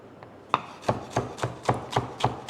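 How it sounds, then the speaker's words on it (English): A knife slices capsicum on a cutting board with about eight crisp, evenly paced cuts, each a sharp tap against the board, close and clear. "I'm just going to slice my capsicum and set it aside in a little bowl"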